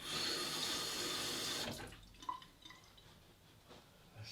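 Water runs steadily from a tap, then shuts off abruptly, leaving a few faint drips and soft trickles in a quiet room.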